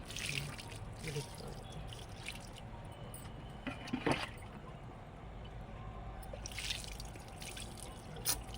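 Fermented rice-washing water, soured for two days, is poured over kitchen-waste compost at home, giving soft intermittent trickles and drips at close range over a quiet background.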